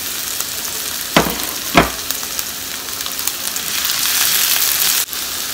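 Onion and ginger frying in a pan for baingan bharta, a steady hissing sizzle close by, broken by two sharp spoon knocks early on and swelling louder before a final clatter.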